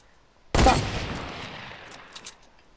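A single sharp gunshot in Fortnite cracks loudly and fades into a short echoing tail, followed by a couple of faint clicks, with no voices.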